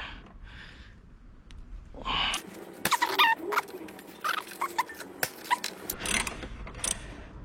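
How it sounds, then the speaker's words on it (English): Hand tools working loose the suspension joints on a car resting on jack stands, with squeaks, metallic clicks and ratcheting in uneven bursts, fairly close and clear. "Now we're gonna go ahead and loosen these joints up."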